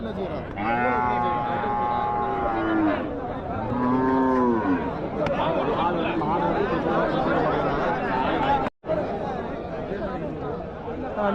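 Crossbred native cattle at the Puthansanthai cow market moo twice in long, drawn-out calls close by, over steady crowd chatter and people talking nearby.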